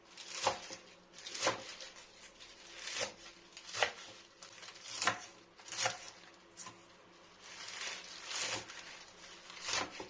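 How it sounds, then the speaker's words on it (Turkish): Washed spinach being finely chopped by hand with a knife, producing irregular soft thuds and crisp cuts on a board, roughly a dozen strikes spaced apart, close and fairly quiet. "Şimdi onları böyle elimden geldiğince ufak doğramaya çalışacağım."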